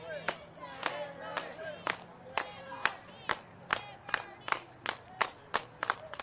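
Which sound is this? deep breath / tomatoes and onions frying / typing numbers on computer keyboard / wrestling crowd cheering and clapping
wrestling crowd cheering and clapping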